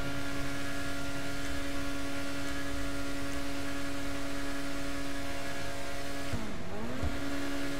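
Progen Itali GTB sports car in GTA V idling with a steady engine and exhaust drone, sustained and even, with a brief dip and swell in pitch near the end suggesting a quick rev.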